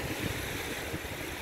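Wind-blown sea waves wash against a rocky shore at a stone-covered coastal spot in Aziziyah, a steady low rumble of surf with wind noise over the microphone, no voices.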